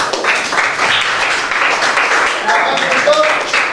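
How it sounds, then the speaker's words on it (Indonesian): A classroom audience applauds group 1 at the end of their presentation. The clapping is loud, close and continuous, with voices mixed faintly into it. "Beri tepuk tangan untuk kelompok 1"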